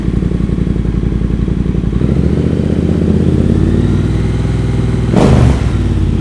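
Fuel-injected Triumph motorcycle engine idling at a dealership, a loud, steady, bassy close-up rumble with a brief throttle blip near the end.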